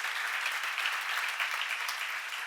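Dense applause from an audience at a church seminar, steady and continuous clapping for a couple of seconds with no speech over it.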